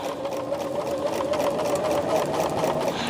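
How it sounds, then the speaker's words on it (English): A sewing machine runs steadily for about three seconds while fabric is squared up and fed through for a Christmas project, a close, continuous mechanical whir with no talk over it. "But I can square up on a sewing machine."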